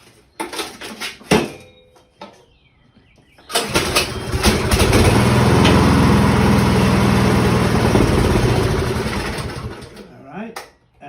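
A small snowblower engine is pulled a couple of times with short sputters, then roars to life and runs loudly and steadily before cutting off.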